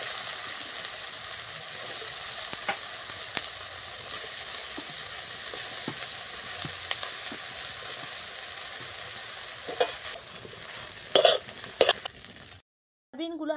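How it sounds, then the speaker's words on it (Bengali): Marinated soybean chunks fry in hot oil in a wok, a steady moderate sizzle with occasional stirring clicks, then a few louder clatters and a sudden cutoff at the end. "আমি দিয়ে দিচ্ছি কড়াইয়ের মধ্যে। ভেজে নিতে হবে একটু লাল লাল করে।"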